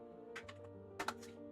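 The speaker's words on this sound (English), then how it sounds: "I hope you guys are enjoying that typing ASMR" Keyboard typing from a livestream setup: two short bursts of quick clicks, a cluster early and another near the end, close and soft over a steady low hum.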